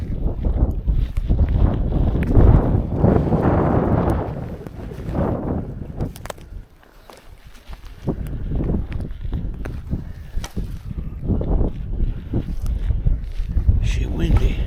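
Strong gusts of wind buffet the microphone outdoors during a mushroom hunt, rumbling loudly in waves with brief lulls, along with some rustling and footstep-like noises.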